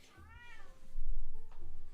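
A house cat gives a single drawn-out meow, close and clear, followed by softer rustling and handling noises; no speech is heard.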